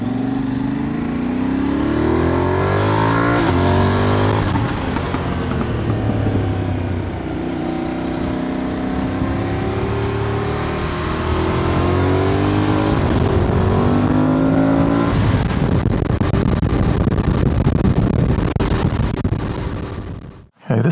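A motorcycle engine and exhaust captured by a clip-on microphone at the belt loop aimed toward the exhaust pipe, loud and continuous with rising and falling revs, shifting pitch, and a surge toward the end.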